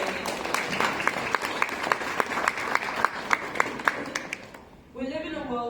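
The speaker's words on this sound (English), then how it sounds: "So a round of applause to yourself" An audience at an inspirational talk bursts into steady applause, dense rapid clapping with sharp peaks that fades out, followed by a speaker's voice resuming.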